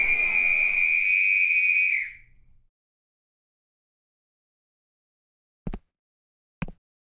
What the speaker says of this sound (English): the blast of a starter whistle cut through the pandemonium like a knife